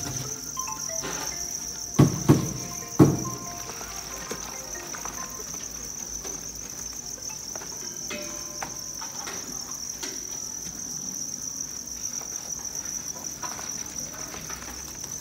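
Crickets at a cricket farm in Vietnam chirp continuously in a dense, steady, high-pitched chorus, with a few louder knocks and rustles near the start and faint voices in the background.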